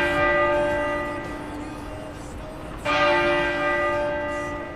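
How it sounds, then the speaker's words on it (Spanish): Westminster Abbey's church bells toll and ring out, sustained ringing tones layered over each other with a fresh strike partway through, loud and reverberant outdoors. "En la abadía de Westminster las campanas han repicado 99 veces, una por cada uno de sus 99 años."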